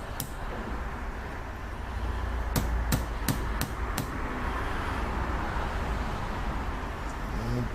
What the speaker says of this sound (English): And hammer it in gently